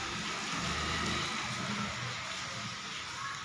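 Rain pours in a steady, broadband hiss that holds evenly throughout, moderately loud, with a low rumble underneath and no clear speech.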